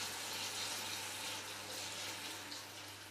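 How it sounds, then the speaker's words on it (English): Caustic lye solution pours over olives in a steady, quiet liquid stream, a soft continuous splashing hiss with a faint low hum beneath, no voices. "I'm going to be very careful to pour it in so this doesn't splash up"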